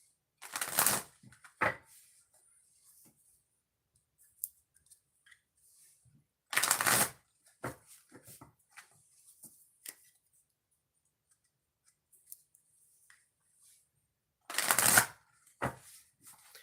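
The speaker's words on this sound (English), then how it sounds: "I'm going to shuffle the deck and then we'll start your oracle reading" A deck of oracle cards shuffled by hand in three quick riffling bursts spaced several seconds apart, with faint card taps and handling sounds between them, close and otherwise quiet.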